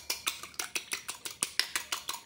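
Eggs whisked in a bowl with a little salt for an omelette, giving a quick, steady run of close, bright clinks of utensil against bowl, about six strokes a second.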